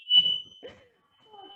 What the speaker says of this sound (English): Someone's cooking and the fire alarm is on.